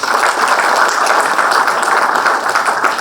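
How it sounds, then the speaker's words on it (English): Guests at a school batch reunion applauding in a hall, a loud, steady patter of many hands clapping close by, continuous for the whole stretch with no talking. "Please give them a round of applause."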